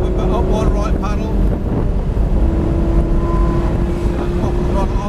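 A Lamborghini engine drones in a low, steady rumble with a rising tone as the car pulls away on a track, heard from inside the cabin under wind buffeting and an instructor talking.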